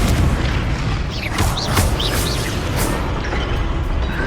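A Confringo fire-blast spell in Hogwarts Legacy bursts with a loud, dense boom amid continuous roaring battle noise, the explosive wash sustained and layered with brief whooshing streaks.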